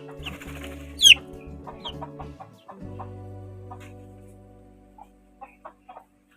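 A hen and her five chicks clucking, with rapid chick peeps and a sharp hen call, the sounds close and fairly loud then thinning to scattered soft chirps, no talking.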